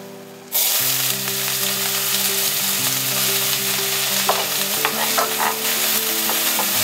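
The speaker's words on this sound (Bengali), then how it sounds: "তারপর আমি পেঁয়াজ ছেড়ে দিচ্ছি" Sliced onions drop into hot oil with a sudden loud sizzle that holds steady and close, with a few stirring clinks scattered through, and no talking.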